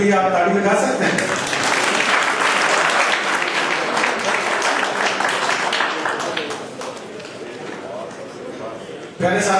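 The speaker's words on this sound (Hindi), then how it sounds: "इन दोनों साथियों के लिए आप ताली बजा सकते हैं।" Audience applause at an all-India workshop on the agrarian crisis in Barnala, Punjab, a loud sustained wash of clapping that thins slightly toward the end before a voice returns briefly.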